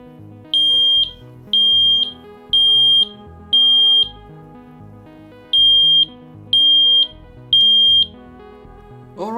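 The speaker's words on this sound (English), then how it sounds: "it would continue to alarm until you actually turn it off" A battery-powered combined CO2 and smoke detector sounds its alarm: loud, shrill beeps in evenly spaced groups of four, a pause, then three more, over a steady background hum.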